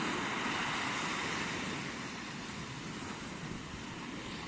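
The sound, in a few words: sea waves on the beach at Porbandar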